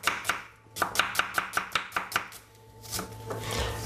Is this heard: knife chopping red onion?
yes